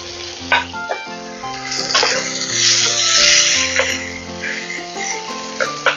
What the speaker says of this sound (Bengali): কাঁচা লঙ্কা দুটো একটুখানি ফাটিয়ে আমি দিয়ে দিলাম।